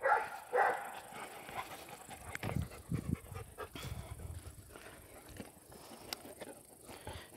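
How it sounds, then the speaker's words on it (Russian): Alabai dogs at a dacha pant close by, with a few barks and whimpers, while a voice speaks faintly in the background. "какой-то молодой человек идет и вот дразнит собак"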